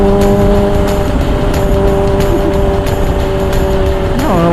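A Kawasaki ZH2 motorcycle engine drones steadily while riding, a loud, close, sustained tone with faint wind noise and a brief rise in pitch near the end.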